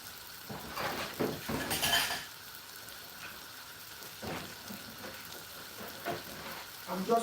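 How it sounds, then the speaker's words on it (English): Bowls being washed in a kitchen sink, with scattered clinks and knocks of dishware, splashes and rubbing, coming in irregular bursts separated by quieter pauses. "I'm just washing my bowls"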